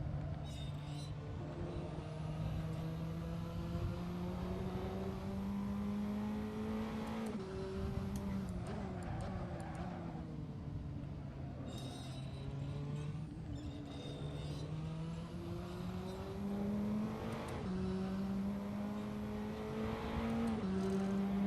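A turbocharged Praga R1 race car in Assetto Corsa drones loudly and continuously, its engine pitch climbing through each gear before dropping sharply at shifts, several times in a row with turbo whine and whooshes.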